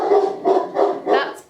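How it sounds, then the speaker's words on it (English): A dog barks four times in a steady series, close and loud, with a short yip at the end and no talk over it. "that's Posty and my doggy"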